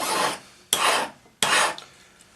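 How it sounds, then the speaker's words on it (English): Three slow, even strokes of a No. 2 cut hand file across the inner end of a wire spiral pendant, each a rasping scrape with short pauses between. "file that flat and then put a nice taper on it"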